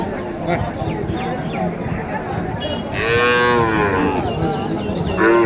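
Cattle low loudly and nearby at a cattle market in Naogaon, Bangladesh, long drawn-out moos rising over a busy crowd of chatter and shuffling in a noisy open-air setting.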